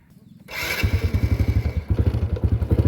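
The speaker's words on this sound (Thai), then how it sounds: "รถอายเพิ่นก็ยังสตาร์ทได้ทุกคนมา ตอนนี้ก็กำลังขี่ออก" A motorcycle engine starts with a sharp catch, then settles into a steady, throbbing idle and revs as it pulls away close by, loud and alone without talk.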